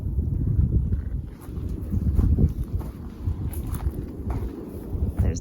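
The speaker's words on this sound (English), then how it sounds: "the wind up here is fucking crazy" Strong wind gusts across an open desert property near Joshua Tree, roaring in low rumbling buffets against the microphone, rising and falling without a break.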